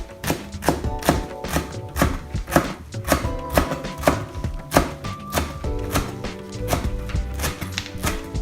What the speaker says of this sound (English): I'm going to chop them up and add them to the paratha mix.